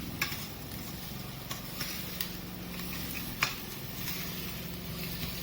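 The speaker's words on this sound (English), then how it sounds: "So just saute them for 2-3 minutes." Chopped ginger and garlic sauteing in a pan, a steady soft sizzle with a few light ticks and clinks, close but fairly quiet, heard without talk.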